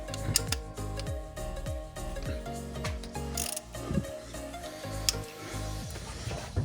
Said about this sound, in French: On va dévisser ça.